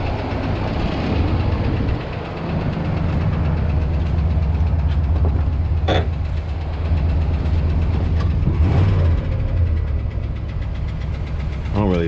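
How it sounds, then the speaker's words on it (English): A 1975 Pontiac LeMans engine idles with a ticking exhaust leak, a steady low rumble with a rapid faint tick running through it, close and continuous for the whole stretch. "it's ticking over there. I think it's got an exhaust leak."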